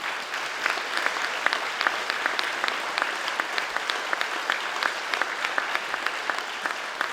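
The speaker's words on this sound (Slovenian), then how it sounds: "dajte prosim zaploskati vsem delavcem doma starejših" An audience at a charity concert for a retirement home claps steadily and crisply for several seconds. The applause is sustained and fairly close.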